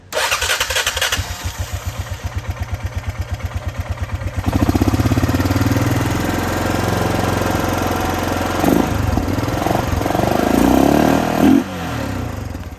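A 2002 Honda Rubicon 500 ATV engine loudly chugging with rapid regular pulses, then revving up and settling into a rougher, uneven idle with a few surges, close by and without talk.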